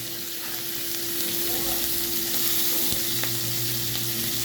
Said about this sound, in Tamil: கடுகு பொரிஞ்சிட்டு இப்போ சேர்த்துருக்காங்க பச்சை மிளகாய் எல்லாம்.